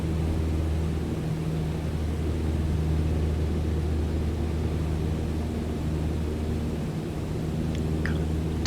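Grob Tutor light aircraft engine droning steadily in flight during a left turn to land with reduced power and flaps set, a constant close cabin hum with no talk.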